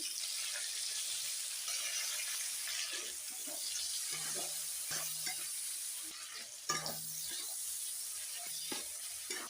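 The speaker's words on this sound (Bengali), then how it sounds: "এই দিয়ে দিলাম পেঁয়াজ কুচি, টমেটো কুচি" Chopped onion and tomato hit hot oil in a pan with crab, giving a steady sizzling fry with scraping stirs and a few clinks throughout.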